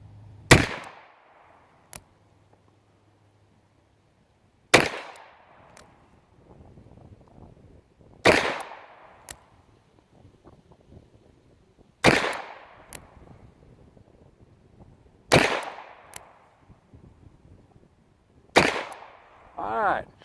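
Colt Official Police .38 Special revolver fired from a bench with light wadcutter loads, six sharp loud cracks spaced about three to four seconds apart, each with a short ringing decay, quiet gaps between.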